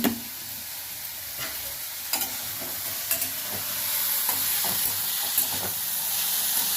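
Ivy gourds sizzling in a pan with tamarind and salt, a steady moderate hiss of frying broken by several sharp scraping stirs and clinks of a spatula.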